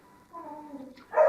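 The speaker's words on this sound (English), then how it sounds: "I apologize for the dogs barking in the background." Dogs in the background give a drawn-out whine or howl followed by a sharper bark, fairly faint, heard during a city council meeting presentation.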